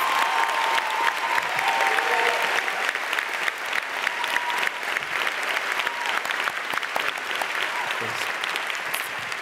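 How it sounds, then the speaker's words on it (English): An audience at a high school commencement claps, a dense, sustained round of applause from a large crowd that carries on steadily throughout. "I just want a round of applause for him"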